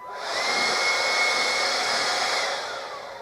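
A Greenworks 40V cordless leaf blower runs in a short, loud burst of steady airy roar that ramps up quickly, holds evenly, then begins to ease off.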